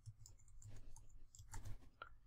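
Fast typing on a computer keyboard, faint irregular clicks and taps close by in a quiet room.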